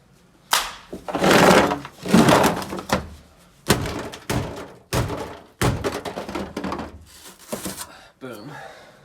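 Several hard smacks knock frozen, glue-stuck roll cage base plates loose from a car floor, each a loud close thunk, spaced about a second apart, with someone talking between hits.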